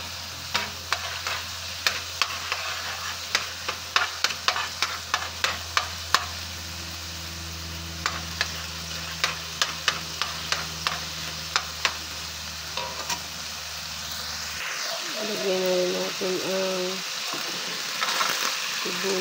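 Garlic sautés in a pan with a continuous sizzle while a utensil taps and scrapes in a quick irregular series; the frying sound drops away near the end, leaving softer clinks.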